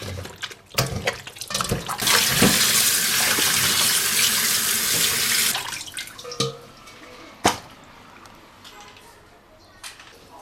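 Pig stomach is scrubbed under a running kitchen tap, prepared for a chicken stuffed in pork tripe. A loud, steady gush of running water lasts several seconds, then gives way to quieter splashing and handling sounds.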